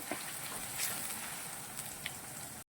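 Onion and tomato filling frying on low gas, a steady soft crackling sizzle with faint pops running throughout, then cutting off abruptly near the end.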